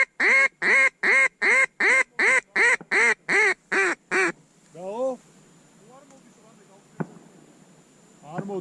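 Wild ducks on open water give a run of about ten loud, evenly spaced quacks, followed by fainter scattered calls and a sharp knock, heard outdoors with no clear talk.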